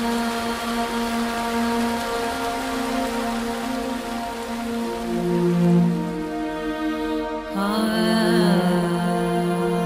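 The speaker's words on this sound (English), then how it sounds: "So it's raining, as I expected." Rain falls steadily outdoors on a journey across the Pacific, its soft hiss running continuously beneath a loud, sustained tonal drone that shifts pitch near the end.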